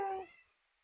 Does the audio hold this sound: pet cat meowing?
yes